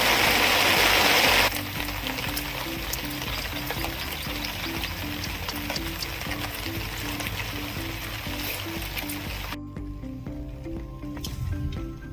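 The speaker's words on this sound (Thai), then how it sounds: "ฝนลงหนักอีกแล้ว" Heavy rain pours down at a natural fishing spot for tilapia, making a dense, continuous hiss. It is loudest in the first moments, then settles into a steady wash with a faint rhythmic chirping underneath.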